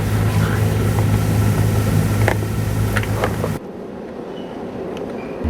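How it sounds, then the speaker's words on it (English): Loud, continuous low rumble of a train in an enclosed space, with metallic squeals over it, before the roar drops to a quieter hum. "There's a train rumbling towards us,"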